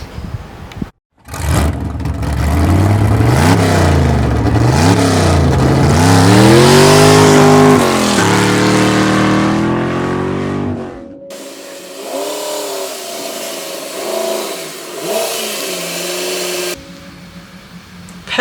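A Ford Mustang engine roars close by, revving up and down repeatedly with rising and falling pitch, then settles into a lower, rougher idle with occasional blips.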